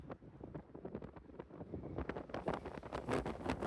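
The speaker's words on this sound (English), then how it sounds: "Oh, it's so windy." Strong wind at the Continental Divide buffets the microphone in loud, continuous gusts, a broad rushing roar that swells and builds toward the end.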